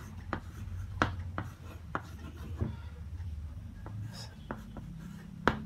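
Pen or pencil writing numbers on paper while solving a decimal subtraction problem, close and quiet, with scattered light taps and scratchy strokes in short bursts.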